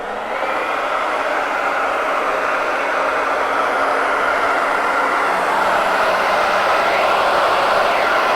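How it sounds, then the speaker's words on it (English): Heater blowing air to dry a chalk-painted sign, a loud, steady whooshing roar that runs unbroken throughout without pause. "And we just hit that with the heater just to be on the safe side."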